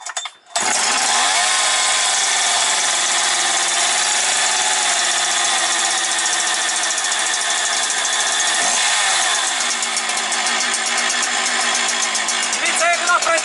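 Husqvarna 365 chainsaw catching on the first pull and then running loud and close with a steady two-stroke drone that shifts pitch slightly partway through, with a voice talking briefly over it.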